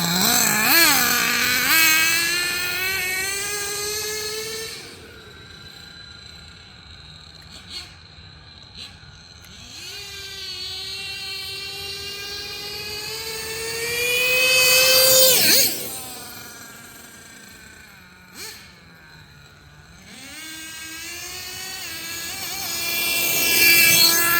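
High-revving nitro R/C car engine screaming at high RPM, rising in pitch through long bursts with short drops to idle between them, loud and close with no talk.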